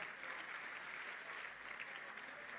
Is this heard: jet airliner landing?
no